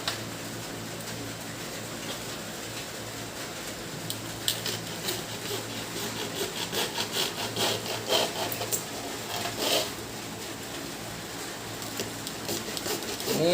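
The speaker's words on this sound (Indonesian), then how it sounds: "Oke, kita gergaji." A hand saw cuts through PVC pipe being prepared as the water intake for a semi-undergravel aquarium filter, giving a steady, faint back-and-forth rasping that builds slightly in intensity over about thirteen seconds, with no talking.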